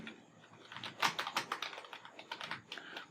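Quick bursts of computer keyboard typing while entering HTML code, close and fairly quiet, with irregular clusters of key clicks and no talking.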